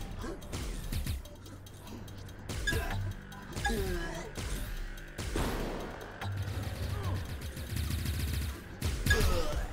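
Plasma gun fire in a Godot-based multiplayer first-person shooter, rapid repeated shots and blasts with mechanical clatter, loud and continuous over about ten seconds.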